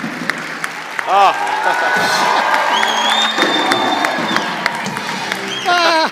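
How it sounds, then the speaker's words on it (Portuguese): An audience on a talk show applauds 88-year-old Carlos Alberto with loud, dense clapping mixed with cheers and whoops. Voices call out over the clapping and a brief shout breaks through. "uma salva de palmas"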